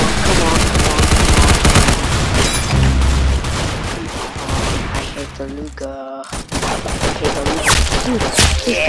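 Dense, loud gunfire from a gun in a Roblox shooter game, rapid bursts and overlapping shots running almost continuously, with a brief gap before the firing resumes.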